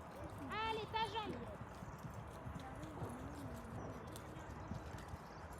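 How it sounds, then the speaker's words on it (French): Horse trotting during a riding lesson, steady muffled hoofbeats running through the whole stretch in an outdoor arena, with an instructor's voice calling out over them and a brief whinny-like tonal sound early on. "garde ce trot Valentine, garde ce trot, c'est très bien"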